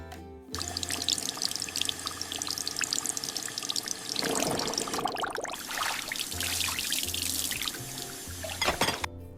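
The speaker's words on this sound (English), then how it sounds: "Dad will wash all the dirty dishes." Water runs steadily from a kitchen tap into a sink while a dad washes dirty dishes, with splashing, clattering and pouring that grow busier and louder partway through, close and continuous.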